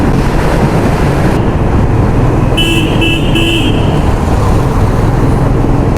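Cars pass on a wet road in the rain, their tyres hissing and spraying water in a steady, loud wash of noise, with a brief higher tone from a horn partway through.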